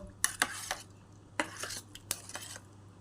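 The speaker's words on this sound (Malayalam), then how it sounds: "നമുക്കിത് നന്നായി ഒന്ന് മിക്സ് ചെയ്തെടുക്കാം" A spoon stirs a mix of chopped fruit such as apple, banana and pomegranate with nuts in a bowl, giving faint, sparse clinks and scrapes in a quiet room with no talking.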